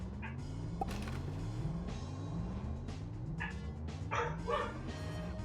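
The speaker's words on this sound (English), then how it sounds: "The dog's going crazy in the other room." Dogs bark in excited repeated bursts from another room, muffled and steady over a droning background hum from game audio.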